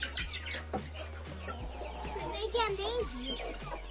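A hen clucks close by near newly hatched guinea fowl chicks, a run of soft, wavering clucks over a steady low hum, with people talking nearby.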